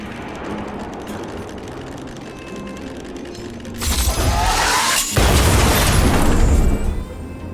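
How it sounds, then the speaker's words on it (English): Automaton Spider robots detonating in Honkai Star Rail's Aetherium Wars Great Mine stage, heard as loud booming, crackling blasts with shattering debris that build into a sustained roar, alone without voices. "it is imperative that you detonate the Automaton Spiders behind your targets"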